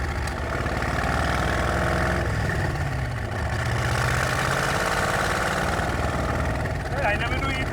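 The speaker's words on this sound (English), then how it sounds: "289 Ford Cobra motor." A 289 Ford Cobra V8 powering the Munster Koach idles and rumbles steadily, a loud, close, continuous low engine drone running the whole time with no break.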